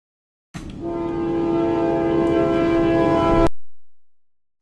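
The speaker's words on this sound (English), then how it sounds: "I think the train is gone." A train horn sounds as one long, loud, steady blast of about three seconds, then cuts off abruptly and leaves silence.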